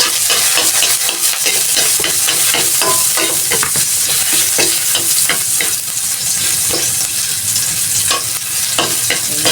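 Garlic sizzles loudly in hot oil, a dense continuous crackle broken by frequent stirring scrapes, close up with no voices.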